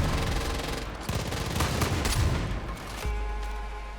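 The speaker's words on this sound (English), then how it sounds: "It's just popping out, firing shots of, like, buckshot from so far away." A sawed-off shotgun fires buckshot in Far Cry 5, a string of rapid booming shots and chaotic gunfire heard up close and loud, with no talk over it.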